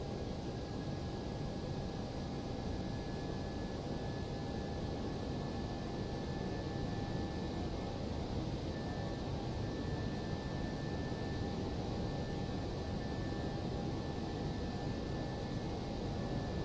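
Simulated Airbus A321 on landing approach in X-Plane 11, with flaps at setting 3 and descending: a steady, even roar of engine and airflow noise with a faint high whine, constant and unbroken throughout.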